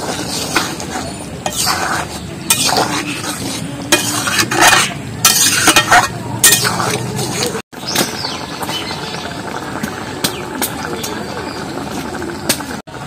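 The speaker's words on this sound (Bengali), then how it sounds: "আর জিরেটা তরকারির মধ্যে ভালোভাবে একটু ঘেঁটে দেবো।" A spoon scrapes and clatters through a pot of masoor dal and taro curry as fried cumin is worked in, loud irregular stirring strokes with a brief pause midway, mixed with faint sizzling.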